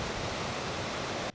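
Rushing white water from the remaining rapids of the former Bujagali Falls on the River Nile at Jinja, a steady dense roar close by that cuts off abruptly at the end.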